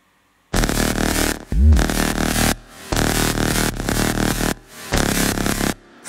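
A slushy, marshmallow-style future bass passage with soft, wide detuned chords in sustained blocks and a deep sub-bass hit with a pitch drop. The chords are loud and up close, pausing briefly between phrases, with no voices.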